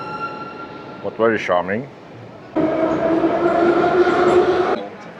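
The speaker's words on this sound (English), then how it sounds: "The acceleration from this metro is kind of not smooth, and the braking also not." An old Soviet-era metro train in Tashkent gives a steady loud rolling rumble with a hum as it accelerates and brakes, while a person speaks briefly just before the rumble starts.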